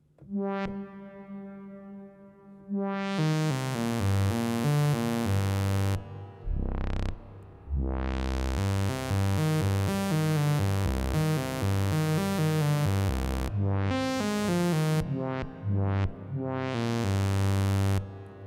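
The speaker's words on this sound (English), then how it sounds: "I'm going to turn the effects going all the way to the left for a church kind of effect, a reverb" Sustained analog synthesizer notes (Behringer Odyssey) with rich harmonics, played as a slow melodic line with a long, washy church-like reverb tail blurring each note into the next.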